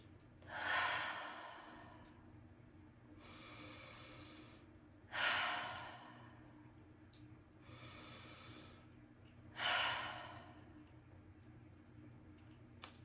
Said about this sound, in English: And let's just take some deep cleansing breaths here.